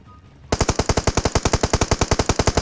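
Rapid automatic gunfire in the mobile battle-royale game PUBG Mobile, a steady burst of evenly spaced loud shots beginning abruptly after a quiet moment and running continuously, close and punchy.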